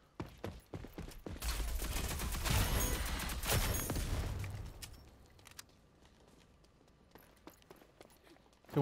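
A sustained burst of rapid automatic gunfire in the shooter game Rogue Company, loud and dense for a few seconds, then scattered single shots and clicks as it thins out.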